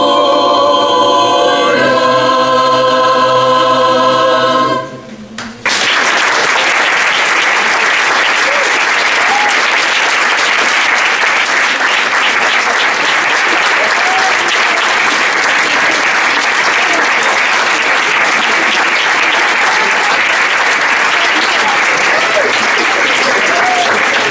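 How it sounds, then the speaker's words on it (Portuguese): Sustained audience applause after a Renaissance poetry performance, a dense, loud, even roar of many hands that begins abruptly after a brief stretch of music and carries on for about twenty seconds. "Nós estávamos à espera de 45 minutos de aplausos bonitos."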